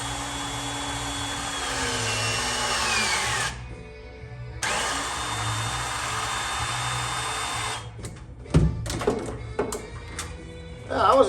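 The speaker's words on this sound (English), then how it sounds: "It's a auto crimper. This is the first few crimps that we're making with it." An automatic plumbing crimper presses fittings in two separate motorized runs of about three seconds each, its whine falling in pitch as each crimp closes, followed by clanks and handling noise.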